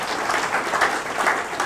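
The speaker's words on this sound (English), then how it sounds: "Nice. Have applause." Steady audience applause at a fan Q&A event with Ravens and Orioles figures, a dense even patter of many hands clapping throughout, moderately loud with no talk over it.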